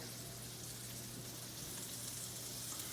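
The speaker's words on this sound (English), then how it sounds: "Let that oil get really hot so it does kind of sizzle when it hits in there." Chicken sizzles and crackles steadily in hot oil, a constant bright hiss with a low hum underneath.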